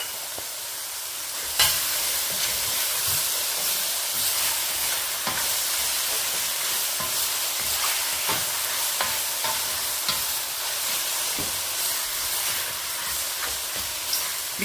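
Chopped green and red pepper, crushed garlic and ginger fry in a hot pan with spring onions, a steady loud sizzle running throughout, broken by occasional clicks and scrapes of stirring.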